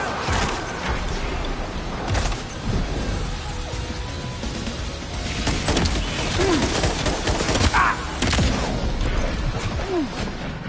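Gunfire in Death Stranding 2: On the Beach, scattered sharp shots and heavier crashing impacts mixed with whooshes across a busy combat scene, moderately loud.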